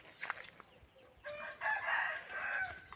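A rooster crows once at a poultry farm, a fairly near drawn-out call rising over faint background clucks and ambient noise, with no voices.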